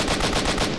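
Rapid automatic gunfire in S.T.A.L.K.E.R.: Shadow of Chernobyl, a loud, dense burst of repeated shots filling the whole moment with no talk.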